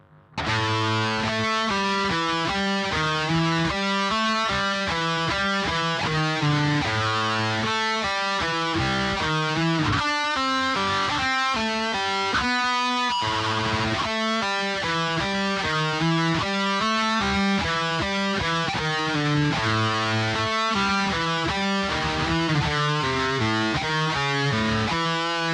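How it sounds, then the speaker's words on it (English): Heavily distorted electric guitar plays a fast, intricate Megadeth thrash riff at a deliberately slowed tempo, dense chugging palm-muted notes running continuously and loud for about twenty-five seconds with no talking. "now you have learned one of the hardest Megadeth riffs, super slow"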